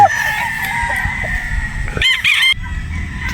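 A gray gamefowl stag of Sweater Boston bloodline crows loudly and close by in one drawn-out cock-a-doodle-doo, over a rough farmyard background with a brief sharper call near the end.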